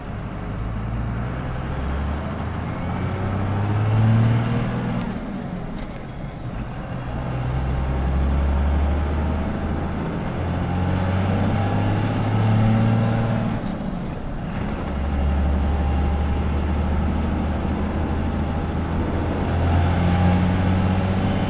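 Diesel truck engine with a P-pump fuel injection pump, adjusted on the star wheel, revving in long repeated surges with a steady low rumble, close and loud, with a hiss like an air brake.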